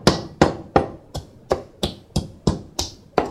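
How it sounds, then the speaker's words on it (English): Fresh whole spices pounded in a mortar and pestle, about ten sharp, evenly spaced strikes in a steady rhythm, each a crisp close knock that quickly decays, with no talking. "We're going to put all those beautiful fresh spices into the mortar and pestle. Then we're going to break it down."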